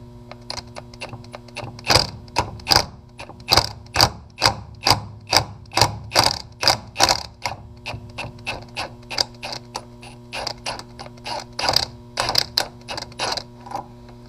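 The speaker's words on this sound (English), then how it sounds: "So we're going to put the impact on there." An impact wrench hammers on a nut of a Yanmar B27 mini excavator final drive, the bolt head stripped and a washer welded on, giving repeated loud rattling bursts in a quick, uneven rhythm over steady background noise.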